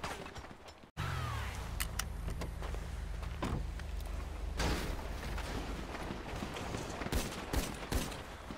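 A video game shootout breaks out in bursts of gunfire, with sharp cracks and rapid volleys over a loud, continuous rumble, with no voices.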